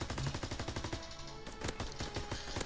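Rapid video-game gunfire in a Search and Destroy match, with dense overlapping shots in quick bursts that ring out loud and close, and a few heavier single reports toward the end.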